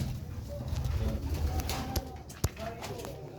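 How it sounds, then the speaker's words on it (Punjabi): Pigeons coo nearby in low, soft, rolling murmurs, repeating over a few seconds, with a couple of sharp clicks and faint background noise. "ਇਹ ਉਹ ਕਬੂਤਰ ਹੈ"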